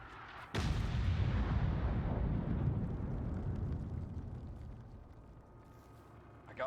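An artillery shell explodes in the video game Generation Zero with a sharp, loud blast followed by a long, deep rumbling roar that slowly fades over several seconds.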